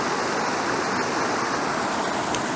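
Water rushes steadily over the Glencoe waterfall in a dense, even hiss, heard close and continuous with no voices.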